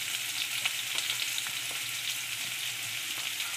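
Raw mango pieces sauté with turmeric and salt, a soft steady sizzle with light stirring clicks, fairly quiet and close, no talking.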